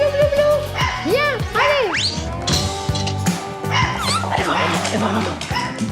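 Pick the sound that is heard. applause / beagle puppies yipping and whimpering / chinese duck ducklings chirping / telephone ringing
beagle puppies yipping and whimpering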